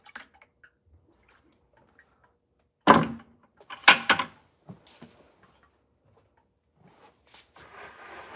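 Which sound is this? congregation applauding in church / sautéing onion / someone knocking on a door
someone knocking on a door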